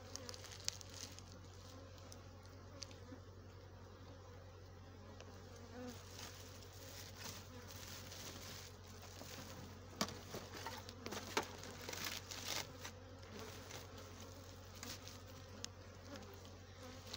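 Honey bees buzzing at an opened hive during a beekeeper's colony inspection, a faint, continuous swarm-like hum with scattered nearer passes and light tapping sounds, no talking.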